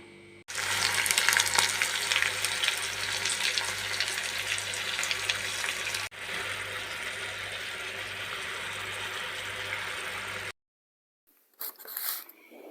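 Butter and sugar melt into caramel for apples in a pan, giving a steady, loud sizzle that runs unbroken for several seconds. After a brief silence, a short burst of running water follows.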